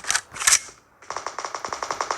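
Gunfire in the video game PUBG: two quick shots ring out, then after a short pause a rapid, evenly spaced burst of about a dozen sharp reports follows, with no talking.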